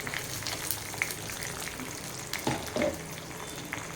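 Chana dal, cumin seeds and curry leaves with salt fry in hot oil in a pan, a soft continuous sizzle with a couple of brief crackles and stirring sounds, heard alone without speech.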